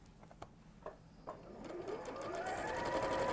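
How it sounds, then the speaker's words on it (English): A domestic sewing machine tack-stitching around a pyjama neckband: a few isolated needle clicks, then the motor winds up into a rising, steady whirr of stitching, fairly quiet throughout. "So you just tack stitch it, see here, machine tack it all the way around"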